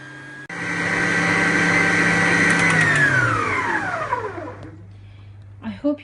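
An electric mixer whisks egg whites and sugar into meringue, starting abruptly with a loud, high motor whine that holds steady, then winds down in falling pitch and stops, followed by a few clunks.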